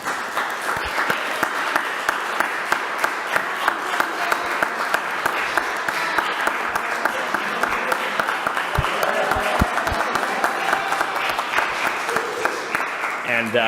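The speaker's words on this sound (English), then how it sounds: "a round of applause is in order for Brendan" A long round of applause fills a Springfield City Council budget meeting, steady and dense with a few sharp individual claps, as voices murmur in the room throughout.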